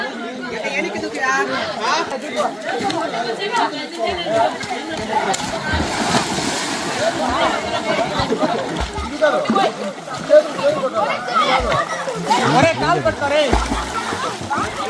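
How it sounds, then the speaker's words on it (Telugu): Water pours heavily into a swimming pool in a mango orchard, a continuous splashing and sloshing heard under loud, constant chatter from several people nearby. "నీళ్ళు హెవీగా పోస్తారు"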